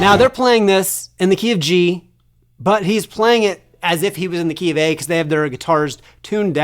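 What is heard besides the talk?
No everyday noises stand out.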